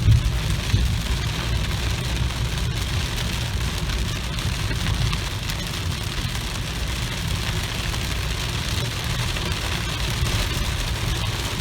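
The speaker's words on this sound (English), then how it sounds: "We're seeing a pretty good downpour here in Hysteria." A heavy monsoon thunderstorm downpour in Victorville or Lucerne Valley, California, is heard from inside a car. Dense, steady rain hammers the roof and glass over a low engine idle and continues without letup.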